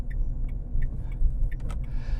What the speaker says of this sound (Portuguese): sejam bem-vindos ao silêncio de um carro elétrico